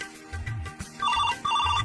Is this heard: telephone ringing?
yes